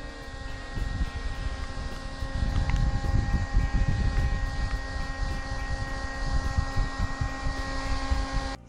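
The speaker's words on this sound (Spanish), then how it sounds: "me la voy a secar con mi ventilador para que todo el producto lo absorba mi piel" An electric fan blows to dry makeup on the face, giving a continuous close whirring rush with a steady motor hum that swells a little after the first couple of seconds and then holds.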